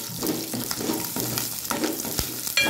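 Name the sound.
garlic cloves frying in tempering oil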